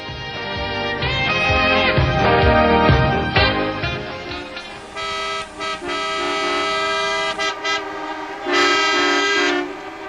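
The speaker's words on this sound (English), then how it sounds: "The sound you hear is bumper-to-bumper traffic on I-95 on the most heavily traveled day of the year" Bumper-to-bumper traffic on I-95 on the Wednesday before Thanksgiving: loud car horns honk repeatedly, with several overlapping toots and long sustained blasts over a continuous traffic din. No one speaks.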